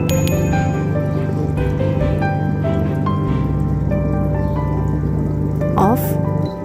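An electric foot spa runs with its bubble function on, giving a steady close motor hum under continuous watery bubbling, with a brief splash near the end.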